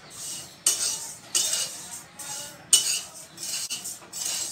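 Fennel seeds dry-roasting in a pan for mukhvas are stirred with a metal spoon, producing bright scraping sweeps and clinks against the pan at irregular intervals over a soft background crackle, close by with no voices.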